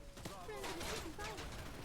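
Gunfire crackles in a Wild Assault firefight, with rapid shots layered over busy combat noise for just under two seconds. A game voice speaks over the shooting.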